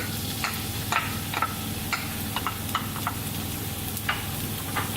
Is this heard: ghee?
yes